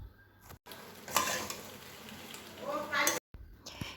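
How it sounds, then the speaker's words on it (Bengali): Maggi noodles with spices stirred with a spatula in a pan, giving soft scraping swishes over a low sizzle, with two louder scrapes about two seconds apart and brief silent gaps. "এবার খুন্তি করে ভালো করে মিক্স করব"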